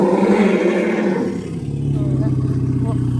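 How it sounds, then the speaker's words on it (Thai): A loud, rough trumpeting roar from an elephant, close and sustained, fading into a lower rumbling call. "พ่อแม่น้อยเป็นอะไร ร้องเสียงดัง"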